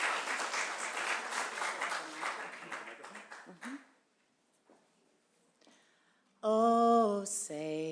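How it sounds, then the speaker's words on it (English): Applause from a city council chamber audience during a rededication ceremony, a dense burst of clapping that fades out after a few seconds, followed by quiet and then a singing voice starting loudly. "How about a round of applause as we give her a little encouragement?"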